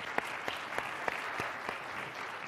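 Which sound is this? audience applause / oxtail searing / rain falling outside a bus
audience applause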